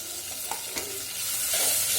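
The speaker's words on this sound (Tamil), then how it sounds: "இப்போ தக்காளி பழம் போடுவோம்." Tomatoes added to frying small onions in a pan for a Tamil crab curry, a soft close sizzle with a few stirring knocks that swells toward the end, no talking.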